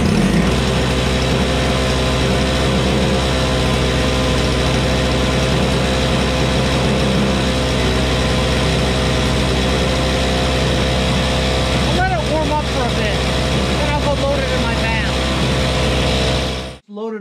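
A Troy-Bilt TB22 two-stroke weed trimmer engine running after a single pull start, a loud, steady, buzzing drone held for a long stretch that cuts off abruptly at the end.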